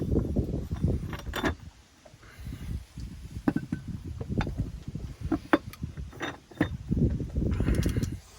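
Rapid metallic clicking and ratcheting of self-tailing sailboat winch pawls and springs, in repeated bursts with short pauses, close and fairly loud.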